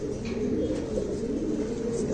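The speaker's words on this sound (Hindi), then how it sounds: "बहुत बहुत शानदार कबूतर है" Pigeons of a prized original breed from Khulna, Bangladesh, cooing in a low steady murmur throughout, close by with a continuous soft background hum and no clear talk.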